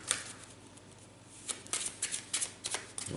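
A normal deck of playing cards being shuffled up close: a run of crisp riffling and flicking bursts, quieter at first and then in quick repeated waves, with no voices.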